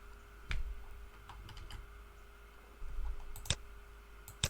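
A port number is typed on a computer keyboard, a few scattered close key clicks with short pauses, then a quick burst of keystrokes near the end, quiet and with no talk.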